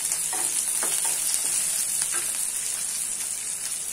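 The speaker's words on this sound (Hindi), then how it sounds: "हम अब हरी मिर्ची डालेंगे।" Green chilies sizzling and frying in hot oil for wheat rava upma, a steady, close crackle with occasional stirring scrapes and no talk.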